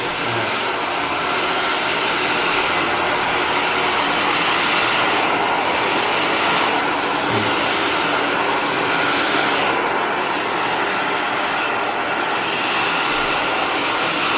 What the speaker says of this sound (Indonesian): Ini bisa saya bantu menggunakan ini, hair dryer.